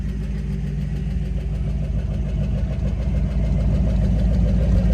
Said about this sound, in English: I'm going to let you hear that exhaust